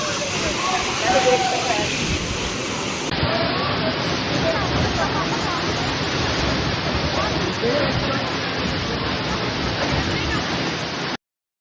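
Roaring waterfall in Chakrata, Uttarakhand: a steady, dense rush of falling water that fills the whole stretch evenly and stays loud throughout, then cuts off abruptly at the end.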